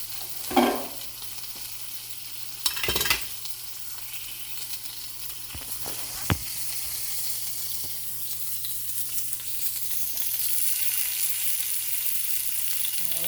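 Chicken sears in a hot pan with a steady sizzle and hiss. A few sharp pops and crackles break through near the start, and the frying grows slightly louder toward the end.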